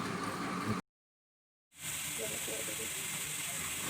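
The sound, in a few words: chopped onions frying in hot oil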